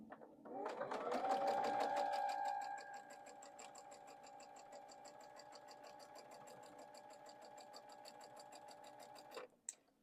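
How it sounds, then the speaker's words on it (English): A sewing machine stitches a quarter-inch seam down a Double Maltese Cross quilt block, running as a steady close motor whir with a rapid needle rhythm that starts near the beginning and stops abruptly near the end, with no talking. "Bring it into your machine and use your accurate 1/4 inch, and you're going to sew all the way down."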